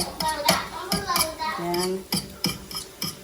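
Eggs being scrambled in a pan by a child making breakfast, heard as repeated clinks and scrapes of a utensil against the pan in a quick, uneven rhythm, with a voice at times underneath.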